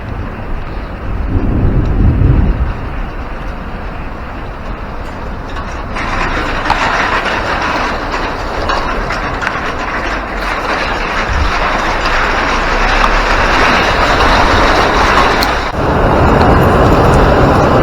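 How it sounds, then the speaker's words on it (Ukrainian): Heavy rain downpour on a rural homestead, a steady loud wash of falling water lasting throughout, with a low rumble near the start that may be thunder and the roar growing denser midway. "Ось цей довгоочікуваний дощ."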